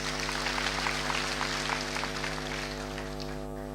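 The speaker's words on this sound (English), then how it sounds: "Another big round of applause, please." Delegates at an ANC conference in KwaZulu-Natal give a sustained round of applause, a dense wash of clapping over a steady electrical hum.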